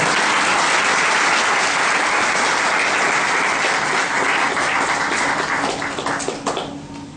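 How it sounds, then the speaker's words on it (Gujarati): Devotees at a Swaminarayan temple's Annakot festival in Raroda clap together to welcome God, a loud, dense and continuous applause that thins slightly near the end. "તાળી પાડી અને ભગવાનનું સ્વાગત કરો।"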